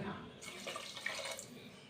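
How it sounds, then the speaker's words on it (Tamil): Half a tumbler of water poured into garlic curry gravy as it cooks, a short, soft splashing pour that is fairly quiet and close, with faint background noise. "நம்ம இந்த டம்ளருக்கு ஒரு அரை டம்ளர் சேர்க்குற தண்ணி"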